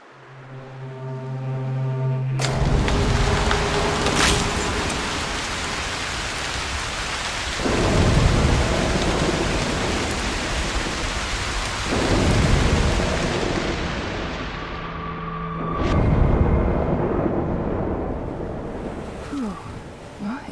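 Video game thunderstorm from Broken Pieces: steady heavy rain hisses throughout while several deep rolling thunder crashes swell and fade, loud and close.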